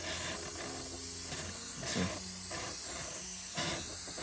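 Airbrush spraying lemon-yellow alcohol ink onto floral artwork: a soft, continuous hiss with two brief stronger bursts. A short spoken remark is heard faintly.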